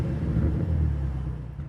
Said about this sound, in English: the other thing that sounds special is the startup